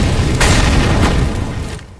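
A molotov fire burst in Counter-Strike: Global Offensive, a loud whooshing roar that flares and then dies away over a couple of seconds in a busy match.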